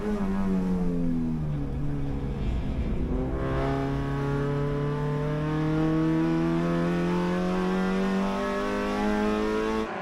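Under 2.0-litre race cars, including a Honda Civic, race at Sydney Motorsport Park, engines droning loudly with rising and falling harmonic whines as they accelerate and shift, continuous and close with no voices.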